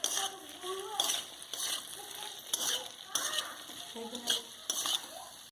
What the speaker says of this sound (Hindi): उसको हम अच्छे से मिक्स करेंगे।